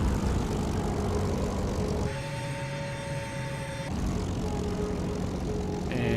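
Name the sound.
Focke-Wulf fighter planes flying, from IL-2 video game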